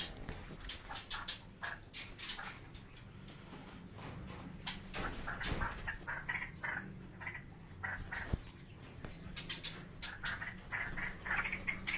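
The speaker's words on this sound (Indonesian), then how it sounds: "Ini lagi milih-milih cucak rawo." Straw-headed bulbuls (cucak rawo) being picked out from a bird dealer's stock give a busy stream of short chirps and clicks at moderate volume, with no talk over them.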